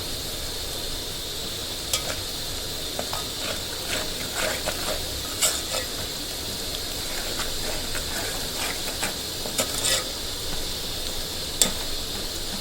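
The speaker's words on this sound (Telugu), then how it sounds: "పచ్చివాసన పోయిందాక వేయించుకోవాలండి" Masala frying in a pan for a chicken curry, with a steady close sizzle and scattered clicks and scrapes of stirring running throughout, no talking.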